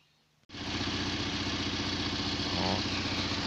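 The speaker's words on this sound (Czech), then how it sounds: "Tak takhle si ševelí italský motor." A 1992 Fiat Uno with the 1.4 i.e. engine starts up and idles steadily, its exhaust giving a close, even, slightly burbling rhythmic putter.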